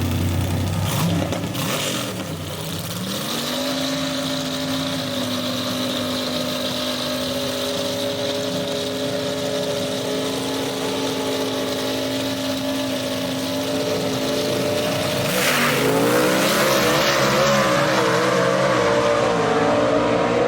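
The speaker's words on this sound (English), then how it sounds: "He chooses to do a little shorter burnout." A gasser drag race car at Union Dragway does a short burnout and then launches, its loud engine droning steadily before rising in pitch as it accelerates away.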